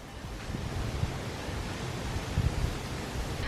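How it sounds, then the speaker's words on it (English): Water runs steadily into a backyard pool as it fills, a continuous broad wash with faint low splashing and some wind noise on the microphone, no voices present. "now we're gonna turn on the water and we're gonna finish filling up the pool"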